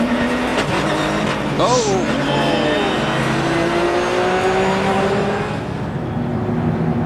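Onboard engine roar from the number 87 Brumos Porsche in a 2008 Grand-Am Rolex Sports Car race, a loud steady drone with shifting pitch as the car crashes. A brief voice exclaims and commentary runs beneath.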